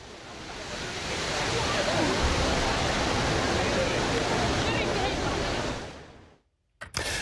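Water rushing and splashing at the Trevi Fountain in Rome, a dense, steady wash of noise that holds for about six seconds before cutting off abruptly, followed by a short sharp noise.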